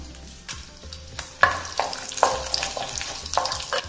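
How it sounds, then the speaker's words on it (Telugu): Cumin seeds and dried red chillies hitting hot oil after mustard seeds, a close crackling sizzle broken by sharp spoon taps and stirring scrapes on the pan, with a low hum underneath. "ఇప్పుడు జీలకర్ర వేస్తున్నాను. ఎండుమిరపకాయలు వేస్తున్నాను."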